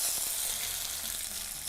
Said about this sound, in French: j'ai de l'huile qui chauffe probablement trop